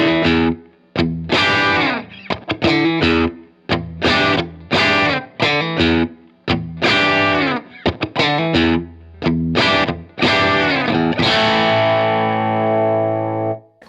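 Crunchy, overdriven electric guitar through a Strymon Iridium pedal on its Plexi amp model, with chords and riffs played in short, loud bursts and ending on a long, ringing chord left to decay.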